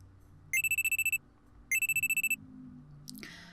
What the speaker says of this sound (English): I'm sleeping on the couch when a loud alarm rings in my ears.